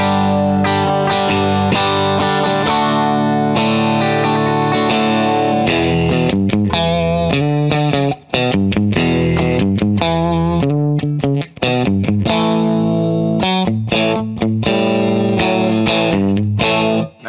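A distorted Fender Nashville Telecaster on bridge and middle pickups plays sustained chords, then choppy rhythmic strums and short riffs, loud and up front with no voices.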